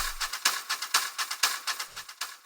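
A texture and ambience loop from the Tetra sample pack for melodic house: a dense, hissy, crackling wash with rhythmic swells and clicky flutters, steady and fairly quiet, alone.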